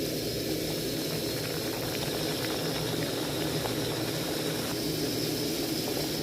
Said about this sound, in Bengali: তেলটা গরম হয়ে গেছে, এবারে ছেঁকে নেব